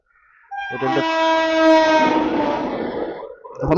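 An express train passes a railway level crossing on a Bengal road, its horn sounding one long, loud, sustained blast close by, with rumbling wheels beneath that fade as it goes by.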